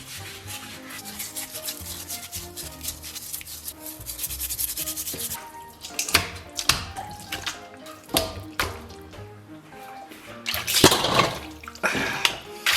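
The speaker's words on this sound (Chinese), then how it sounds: "咱们拿清水给它泡一下，然后拿钢丝球给它打净" Meat soaking in water in a kitchen is scrubbed hard with steel wool, giving loud rhythmic rasping strokes with sloshing and dripping water, close and without talk.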